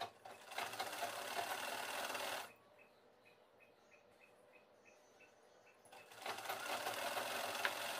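A sewing machine stitches cotton fabric for a child's garment in two loud, steady, close whirring runs of a few seconds each, separated by a quiet pause with light ticking.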